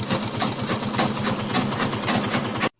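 A sewing machine runs steadily, stitching Ankara fabric for a danshiki, its fast, even mechanical chatter continuous and close before stopping abruptly.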